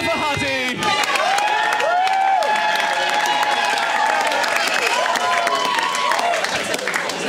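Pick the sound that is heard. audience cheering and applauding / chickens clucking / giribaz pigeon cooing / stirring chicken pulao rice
audience cheering and applauding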